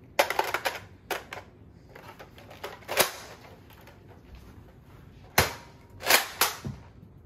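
A homemade toy gun fires a handful of sharp, snapping shots at irregular intervals, loud and close, with quiet gaps between them and no talking.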